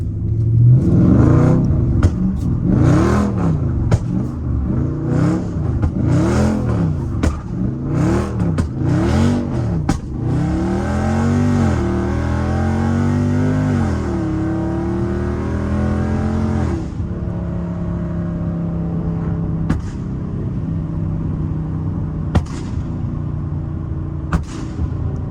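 A Buick with a burble tune revving hard while drifting and spinning its tires, engine rising and falling in repeated sweeping surges, then a longer held scream that settles to a rough idle with scattered pops, loud and close with no voices.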